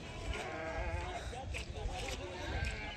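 Goats bleat over and over in the crowded din of a goat market at Ettayapuram. Their calls overlap with people talking all around, the scene busy and close.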